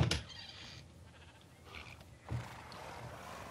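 A sheep bleats in a video game, a short faint bleat and a second one later amid quiet game ambience.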